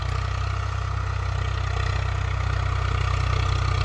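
A Swaraj 744 tractor diesel engine runs outdoors near a field with a spring cultivator, a steady low throbbing drone with even clatter, loud and constant throughout.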